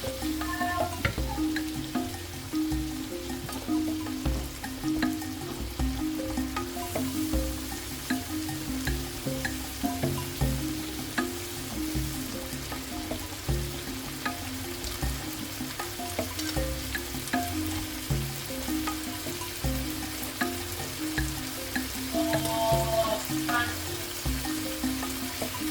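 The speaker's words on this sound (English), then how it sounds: "I'm adding one large onion, and then cook the onion until it's cooked" A large onion fries and sizzles steadily in a pan with cooked chicken, a continuous close crackle with occasional stirring scrapes, no talk.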